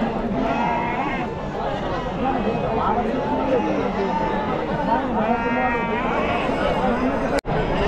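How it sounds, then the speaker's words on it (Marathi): Sheep bleating amid a busy crowd at a large goat and sheep livestock market in Chakan, Maharashtra, with steady chatter and people talking close by throughout. "तर मेंढ्या पाहू शकाल मित्रांनो"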